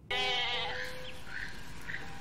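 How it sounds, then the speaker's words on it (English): A goat bleating in the 1993 Jurassic Park film: one long wavering bleat, fairly close and clear, followed by faint rustling and a softer trailing tone in a quiet scene. "There's a goat."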